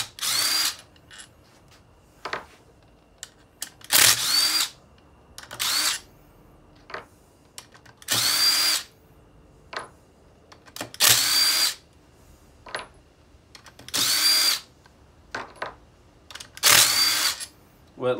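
Bursts from a power drill or impact tool removing a flange on a 2015 Kawasaki Teryx 4 800 during bevel gear work, about eight loud whirring bursts spaced through the stretch, with faint clicks between and some speech.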